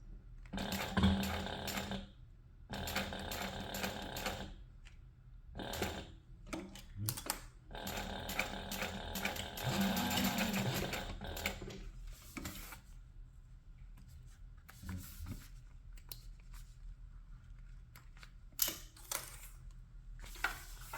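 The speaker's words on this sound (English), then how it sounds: "I'm just going to back stitch for a little extra security" A sewing machine back stitching on a crossbody bag gives close, fast mechanical rattling in short bursts with brief quiet pauses between runs of stitches.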